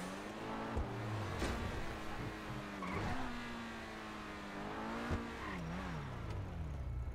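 A car in the video game GTA V spins out with screeching tires and a revving engine, a continuous loud whine of skidding and acceleration with shifting pitch, close and without talk.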